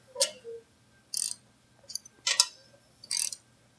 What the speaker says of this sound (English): you'll need a 7/16 socket and ratchet to remove it